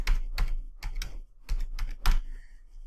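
Bursts of quick key clicks on a computer keyboard, about seven clustered presses with short pauses between them, close and clear with nothing else heard.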